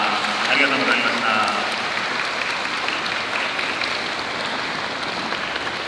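An audience at a public safety fair claps after an Aichi Prefectural Police band performance. The broad applause is loud at first, then thins slightly, with a voice talking over its opening seconds.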